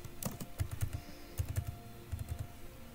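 Someone types a passport number on a computer keyboard, with quick bursts of close, clicky keystrokes separated by short pauses.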